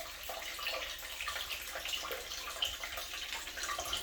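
Dirty washing machine water tipped out of a bucket, a steady close splashing pour with a constant rushing texture and small spattering bursts throughout.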